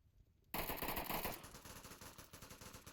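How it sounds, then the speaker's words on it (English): Rapid automatic gunfire from the VR shooter Onward erupts suddenly after a quiet start, a loud dense burst of rattling shots that tails into continuing quicker pops and distant fire. "Shots going off"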